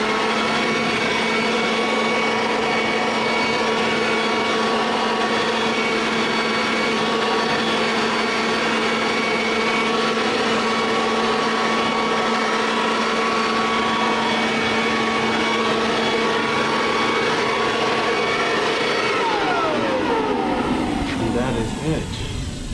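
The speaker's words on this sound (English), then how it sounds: "I have the dryer here in my hand. And just turn it back on." A handheld blower dryer blasts water off a 2021 Harley-Davidson Street Glide Special, giving a loud, steady whining roar that holds for about nineteen seconds before spinning down and fading.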